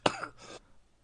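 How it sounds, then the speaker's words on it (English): A single short cough, close and fairly quiet, with a brief second rasping burst right after it. "Can't stop coughing."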